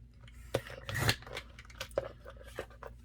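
Scissors snipping through card stock while trimming artist trading cards, a few sharp crisp cuts with a brief rustling tear in the middle, close and fairly quiet, no talking.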